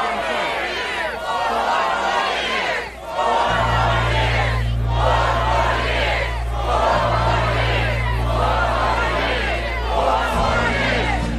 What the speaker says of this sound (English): This is the most fired up crowd I've ever seen.